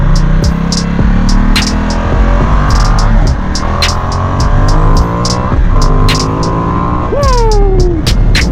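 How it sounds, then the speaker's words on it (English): A Ducati XDiavel motorcycle engine roars loudly and close while riding, with rising and falling revs through gear changes and a sharp climbing rev near the end, heard alone without speech. "You can feel the power in this Ducati X Diablo"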